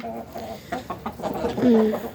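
Chickens eating grain give soft, close clucks and murmurs over a busy yard background, and one brief louder call is heard near the end.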